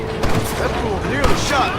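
Gunfire bursts from a Western film action scene, sharp loud reports ringing out amid clattering movement and a shouted voice, brief and chaotic.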